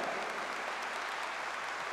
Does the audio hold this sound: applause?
yes